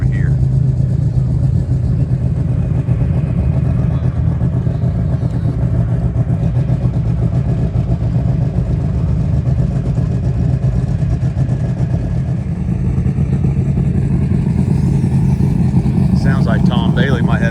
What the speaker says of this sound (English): Sounds like Tom Bailey might have his car running.